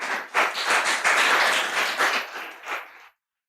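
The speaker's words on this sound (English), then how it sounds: "Give it a round of applause, please." An audience applauds a speaker being introduced at a talk event, with a dense burst of clapping that swells quickly, holds steady for about three seconds, then tapers and stops abruptly.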